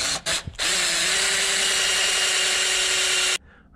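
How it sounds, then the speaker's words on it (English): A power drill drills out a bolt hole on a Coleman CC100X during a hydraulic brake install, a short start and stop followed by a steady, loud whine for about three seconds before cutting off. "drill this one out"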